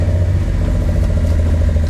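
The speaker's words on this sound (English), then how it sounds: "Starts up nice and easy." A restored Nissan Skyline KGC10 Hakosuka engine runs steadily, with a deep, even mid-frequency rumble held at a constant close level and no clear cranking burst.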